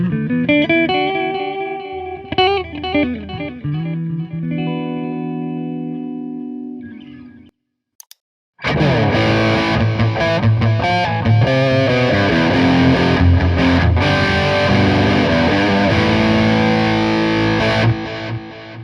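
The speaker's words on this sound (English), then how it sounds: "What we were listening to was the sound of the delay through the effects loop" Distorted electric guitar through the effects loop of a tube combo amp, with delay repeats trailing the notes; a clean-ish phrase, a brief gap, then a loud, dense crunchy passage.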